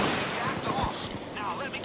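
Rapid burst of gunfire in Payday 2 striking the player, a cluster of sharp cracks close by, layered over dense game noise and voices.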